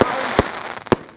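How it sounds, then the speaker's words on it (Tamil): Ravindras brand Rock and Roll firecracker bursting in quick sharp bangs, three loud cracks spaced apart over a continuous crackling hiss, close by. "வேற மாதிரி எவ்வளோ டக்குனு நிறைய வெடிக்குது ஒரே இதில்"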